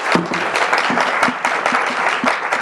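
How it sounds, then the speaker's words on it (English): Conference audience at a kitchen tech panel gives a big, steady round of applause for Lisa McManus, dense clapping filling the room without a break. "can we give a big round of applause, please, for Lisa McManus?"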